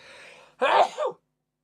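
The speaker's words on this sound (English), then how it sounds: "I'm just trying to sneeze" A single close, sharp sneeze in two quick bursts, preceded by a faint breathy hum.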